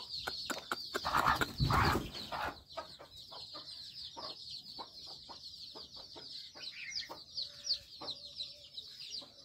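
Tethered hens cluck in short bursts close by, with a loud rustle near the start and birds chirping high and steady in the background, at a mini poultry farm.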